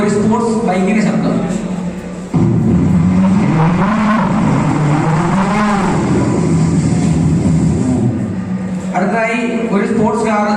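A voice imitates a sports bike engine at a school arts festival mimicry contest, producing loud, continuous revving with rising and falling pitch sweeps and quick throttle blips near the end.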